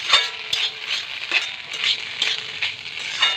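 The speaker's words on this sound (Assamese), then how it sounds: "ইয়াতে মই অলপ টমেটো চচ দি এইখিনি লাৰি দিলোঁ।" Mixed vegetable fry with tomato sauce being stirred in a pan, with soft sizzling and a steady run of spoon scrapes against the pan, close and moderately loud, no talking.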